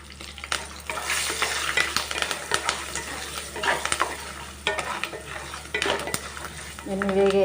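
Spices with turmeric, rock salt and asafoetida sizzle in a pan for lemon rice, a steady close frying hiss broken by stirring scrapes and clinks of a utensil against the pan.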